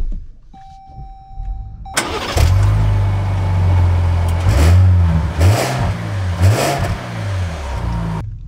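A 2024 Jeep Grand Wagoneer Obsidian SUV sounds a brief electronic chime, then its engine starts loudly and revs in rising and falling surges before settling into a steady hum.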